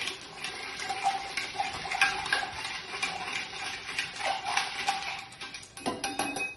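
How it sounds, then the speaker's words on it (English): A Rob Roy cocktail is stirred with ice in a mixing glass, producing steady clinking and swirling rattles of ice cubes against glass, fairly close and alone. "he's going to stir it just to get everything all incorporated."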